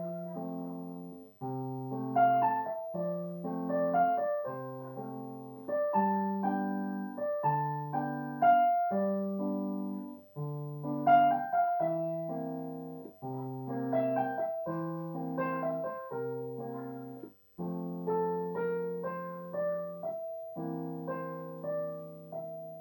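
A short solo piano rendition of a theme from Up, played as a simple beginner arrangement with a steady melody over low bass notes, clear and close with no talking.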